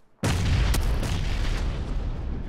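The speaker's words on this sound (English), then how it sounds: "Oh my god, the explosions." Loud, booming explosion blasts in the battle royale video game PUBG, a sudden heavy detonation that erupts and rumbles on continuously in a dense roar of debris and blast noise, with no talk over it.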